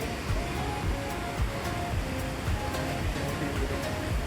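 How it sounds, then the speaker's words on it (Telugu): A fast-flowing river rushes below a bridge on the Kedarnath trek, a loud continuous roar of water, mixed with wind and rain, with low background noise throughout. "ఎంత ఫాస్ట్ నీళ్ళు పోతున్నాయి"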